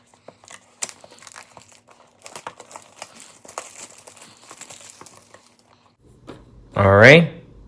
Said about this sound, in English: the plastic is wrapped off, and let's open it.